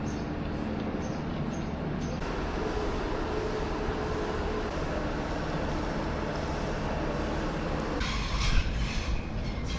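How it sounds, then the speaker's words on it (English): A Sydney-bound train pulls into Kiama station in New South Wales, a steady low rumble and hum of the approaching train building slightly, with a brief louder rattle and hiss near the end, no talk. "Now here comes our Sydney bound train now."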